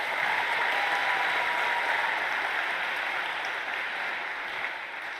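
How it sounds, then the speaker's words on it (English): An audience in a lecture hall claps steadily, a dense, even wash of applause that holds at full strength and eases only slightly toward the end. "a round of applause here if we could"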